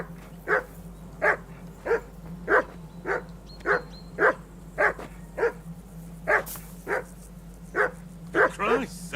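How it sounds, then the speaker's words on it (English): A dog in the medieval role-playing game Kingdom Come: Deliverance II barks in a steady run of about a dozen sharp, evenly spaced woofs, close and loud, ending in a higher yelp while voices talk around it. "Call off that damn dog before he wolfs down the last of our meat!"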